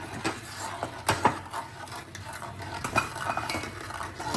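Flour is added to a dish as it is stirred in a metal pot, giving close, irregular scraping and clinking strokes of a utensil against the pan, with a faint sizzle underneath.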